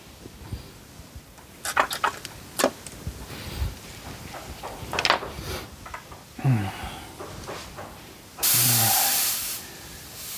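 Airbrush spraying contrast paint, heard as short hissing bursts among handling clicks and knocks, ending in one sustained loud spray hiss lasting a couple of seconds.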